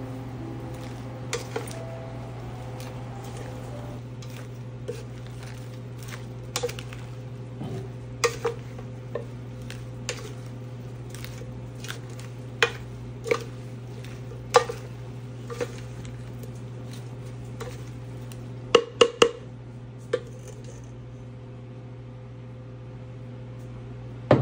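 Utensil stirring a vegetable salad in a bowl, with light scraping and clinking taps scattered across a steady low hum, no talking.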